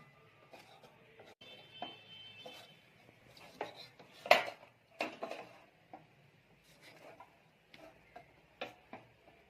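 Knife chopping goat head meat into small pieces, a series of sharp irregular taps and clicks on a cutting surface with faint clinks of utensils, close and fairly quiet.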